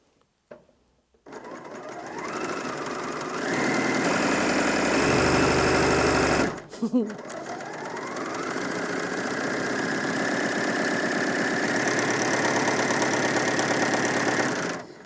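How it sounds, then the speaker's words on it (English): A Bernina L460 overlocker runs at its full speed of about 1500 stitches per minute, giving a loud, steady mechanical whir close by. It winds up, stops briefly partway through, then spins up again and holds a constant hum. "that was up to the full 1500, just to give you an idea of just how fast this machine sews"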